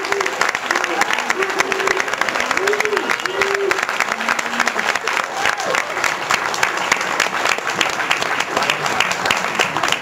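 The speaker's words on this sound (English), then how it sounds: "I want everyone to give a big round of applause for Clu Gulager." Cinema audience at a film reunion screening at the New Beverly Cinema breaks into sustained applause for an actor, a loud, continuous clatter of many hands lasting the full length with a few voices faintly beneath.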